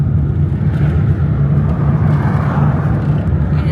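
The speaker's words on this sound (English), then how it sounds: "Go and start the car." A car engine runs at a steady, loud idle, a continuous low rumble with no change in pitch or level from start to finish.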